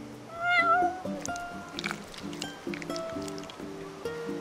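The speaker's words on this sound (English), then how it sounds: "You're one spoiled cat." A cat meows in the Final Fantasy XV video game, a few clear rising meows up front over a steady game music backdrop, with fainter mewing later in the scene.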